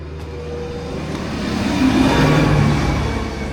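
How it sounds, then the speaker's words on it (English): A tractor engine rumbles past outdoors near the Giant's Causeway, swelling gradually to a peak midway and then fading, steady and moderately distant with no talk. "Tractor just drove up there."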